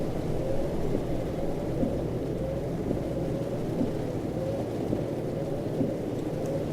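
Rain with rolling thunder in the truck-driving game Euro Truck Simulator 2, a continuous hiss of rainfall over low rumbling thunder and a steady engine drone, no voices.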